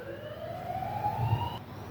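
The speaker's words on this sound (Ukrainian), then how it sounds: "Збила з думки мене та сирена, хтось кудись поїхав." A passing emergency vehicle's siren wails on a city street, a steady rising-and-falling tone that holds for most of the moment before cutting off abruptly, over a low rumble of traffic; no one speaks.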